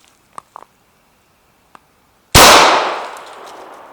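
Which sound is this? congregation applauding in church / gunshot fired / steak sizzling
gunshot fired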